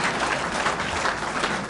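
A lunch crowd at an Illinois political gathering applauds in a short, uniform wash of clapping that stays steady and fairly loud throughout, with no talk on top.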